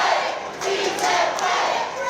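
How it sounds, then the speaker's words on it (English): A wrestling crowd cheers and shouts in a packed venue, a loud continuous roar of voices with rising chants and a few thuds mixed in. "And you hear the crowd here."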